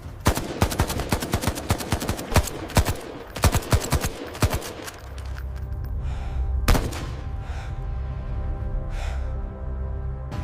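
Gunfire in a war battle scene rattles in dense machine-gun bursts and sharp single shots for the first half, then thins to scattered, echoing reports over a low rumble.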